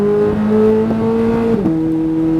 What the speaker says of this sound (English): now into the apex and up the hill, give it some gas